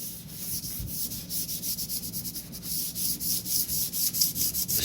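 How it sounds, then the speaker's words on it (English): Wood is sanded by hand while preparing a table and commode for shellac French polishing, with steady rhythmic scratchy strokes repeating close and fairly quiet, with no talking. "We go on with the sanding."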